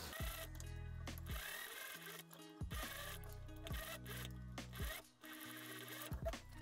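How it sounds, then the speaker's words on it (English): A sewing machine stitches fabric close to an open edge, running in steady mechanical bursts with short pauses between runs, close and continuous. "And now I can stitch very closely to that open edge and finish the slit completely."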